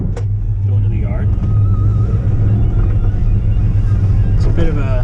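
A truck drives along on the way to a junkyard, its engine giving a steady low rumble close by with some wind buffeting, and someone talks briefly over it.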